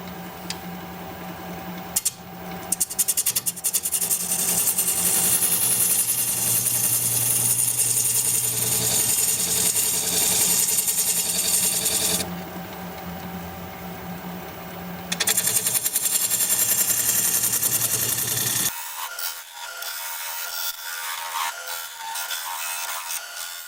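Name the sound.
3/8 inch gouge turning olive wood on lathe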